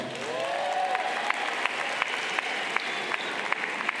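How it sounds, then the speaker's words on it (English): An audience at a high school graduation ceremony claps steadily for several seconds, a broad sustained wash of applause from a large crowd with a few sharper individual claps standing out. "Give yourselves a round of applause."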